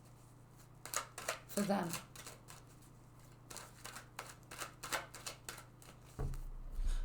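Tarot cards shuffled and drawn by hand, quick papery riffles and soft snapping flicks in short bursts, close and fairly quiet, with someone speaking between them.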